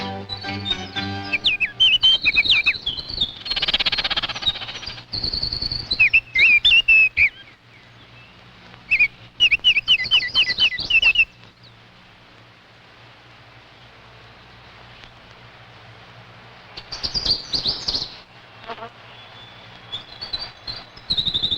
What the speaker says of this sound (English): Now the thrushes and a white-throated sparrow.